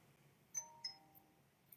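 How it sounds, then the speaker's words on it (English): Electronic doorbell chiming two bright tones in quick succession, followed by a fainter third ping, in an otherwise quiet room with no voices. "Ding dong."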